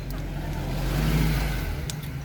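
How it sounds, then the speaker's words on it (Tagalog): A car passes on a road near a tunnel, its engine rumble swelling to a peak mid-way and then fading, heard up close with no one speaking. "Traffic eh."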